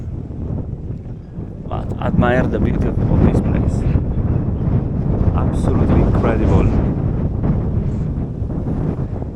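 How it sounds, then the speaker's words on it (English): Gusty wind in Bukhara old town buffets the microphone in a constant low rumble while a person speaks over it. "It's a bit windy,"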